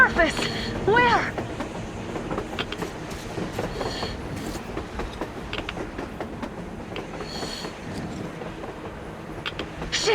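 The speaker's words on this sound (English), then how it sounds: "A damn train on the surface!" Train rolling along on the surface in Metro Exodus, a continuous rumble with rhythmic clanks and creaking metal, mid-distance and steady throughout.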